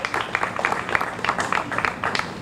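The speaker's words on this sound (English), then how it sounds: "Let's give them a round of applause" Audience at an outdoor groundbreaking ceremony claps in a brief round of applause, a steady patter of many hands at moderate volume that keeps going throughout the short stretch.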